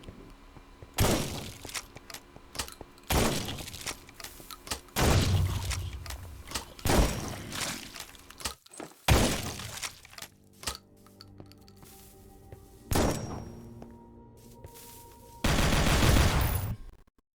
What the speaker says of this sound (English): You get a double-barreled shotgun.